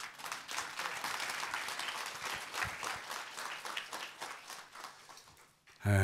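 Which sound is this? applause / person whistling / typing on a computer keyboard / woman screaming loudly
applause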